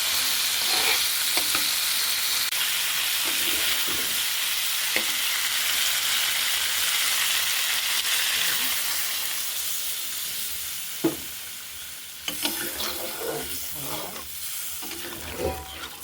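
Kakrol and hilsa fish head curry bubbles in a pan as it is stirred, with a sustained sizzling hiss followed by a series of scraping, sloshing stirring strokes toward the end.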